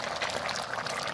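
Milk pours into a mixed vegetable curry with drumsticks and mustard paste, making a steady, close liquid splashing and gurgling for about a second.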